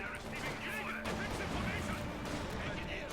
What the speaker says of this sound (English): More infiltration grenades going off.